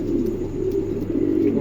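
A white king pigeon, a male, coos nearby in a continuous low, throaty warble that rolls on without pause.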